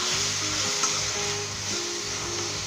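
Tomatoes and green chillies with salt and turmeric mixed and fried in a pan for moong dal tarka, a loud steady sizzle with faint stirring underneath.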